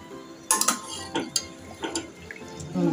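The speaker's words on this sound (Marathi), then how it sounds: "आता यात आपण पाणी घालून भाज्या शिजण्यासाठी ठेवूया।" Water is poured into a pot of vegetables sautéed in ghee for a healthy soup, with a few short splashes and clinks of utensils against the pot, faint and close.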